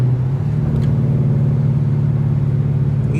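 Dodge Charger engine heard from inside the cabin while driving: a steady, loud low-pitched drone with a faint whine riding over it, continuous throughout with no talking.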